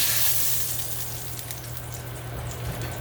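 Lamb chops fry in a pan with a little oil, giving a steady, even sizzle that fades slightly after the start and carries on alone without talk.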